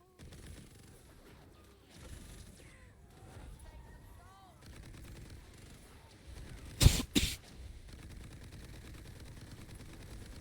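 Weapon fire from the video game Tiny Tina's Wonderlands: a pair of loud, close shots cut through a busy game soundscape of murmuring effects and clatter.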